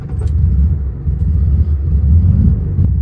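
A 1972 Volkswagen Beetle creeps away in its low first gear without throttle, a loud, steady low engine rumble running throughout with no talk.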